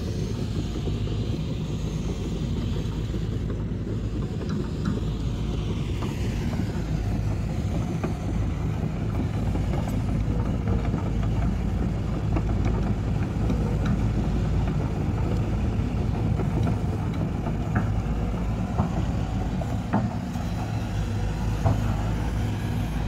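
A Sany SY200C excavator's diesel engine runs steadily nearby, a continuous low rumble with a constant drone and no talking.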